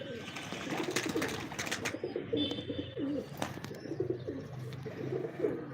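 Domestic pigeons kept at a home loft coo steadily in low, rounded phrases, several birds overlapping close by with faint chirps and rustling around them.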